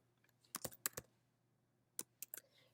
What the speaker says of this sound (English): Type in a subject.